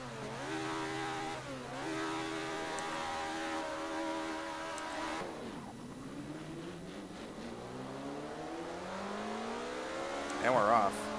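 Several race car engines rev and accelerate together at the start of a video game race, a dense layered drone of rising engine pitches that sweeps upward, then a brief louder burst near the end.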